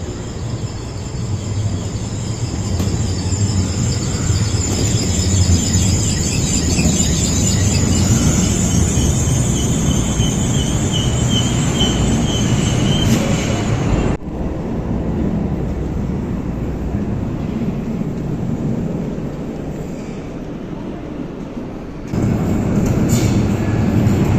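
A Stadtbahn light rail train in Essen rumbles along steadily with a high whine riding over it, then the noise briefly drops before picking up again near the end, with no voices.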